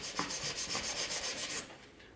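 Stiff brush scrubbed back and forth over unsanded, non-clear-coated painted tile: about a dozen quick, even rasping strokes, close and moderately loud, stopping near the end to a quiet tail.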